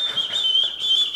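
A person whistles a single sustained high note at steady pitch for just over a second, close and fairly loud, with no talking over it.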